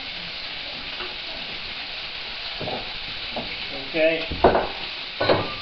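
Unpeeled garlic cloves fry in hot oil in a pot for paella, sizzling and crackling in louder bursts near the end as they are stirred; a voice speaks briefly.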